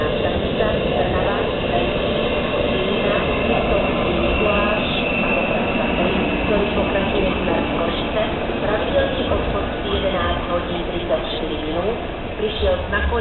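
Express train 601 Horalky pulls into Kysak station in Slovakia, a loud continuous rumble of rolling wagons with squealing wheels, while a platform announcement plays over it.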